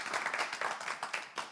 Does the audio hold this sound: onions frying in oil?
no